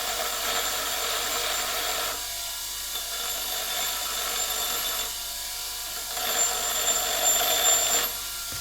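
A bench grinder dresses an engine valve from a Hanomag 44D loader, giving a steady, loud abrasive whir with harsher grinding stretches that fade and return several times.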